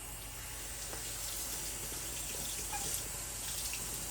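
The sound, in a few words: water rinsing vacuum cleaner parts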